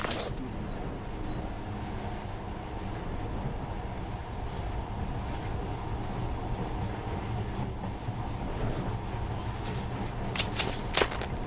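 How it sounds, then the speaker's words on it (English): A monorail train runs steadily in the Metro: Last Light game, a continuous low rumble and rolling drone holding for the whole stretch, with faint voices beneath and a few sharp high clicks near the end. "In the past, trains were ordinary things. But now, this monorail seems magic, doesn't it?"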